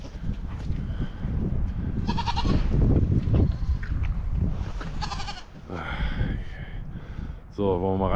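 Goats bleat on a farm hillside, several distinct cries rising in bursts over a few seconds, close and fairly loud, mixed with people talking and ambient outdoor noise.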